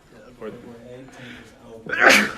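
A single loud, close sneeze breaks out in an entrepreneurship classroom, right after people talk about scheduling dates.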